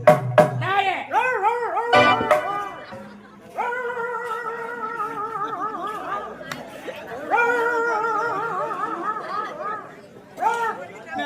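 A voice imitates a dog, giving a run of wavering, yelping howls and barks in bursts, loud and close, with other people chattering around him.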